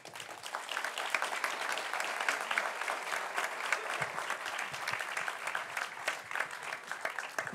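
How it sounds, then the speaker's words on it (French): An audience applauds a speech at a Sciences Po talk, a steady wash of many hands clapping that stays dense and even throughout, with no voices over it. "je vous remercie euh, d'avoir gentiment euh, applaudi un texte"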